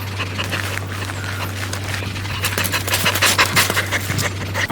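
Heavy, rapid panting from a giant puppy over six feet tall, breathy bursts close to the mic that quicken toward the end, over a constant low hum.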